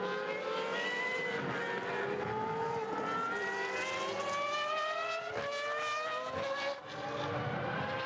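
Engine of a restored Williams race car running on a race track, loud and steady, with the pitch rising as it revs up through the gears, with a few brief dips between shifts.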